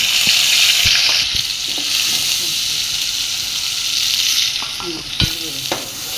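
Ginger and onion paste fries in a pan for a taro-stem and egg curry, a loud steady sizzle and hiss up close, with a few sharp utensil clicks and stirring scrapes near the start and end.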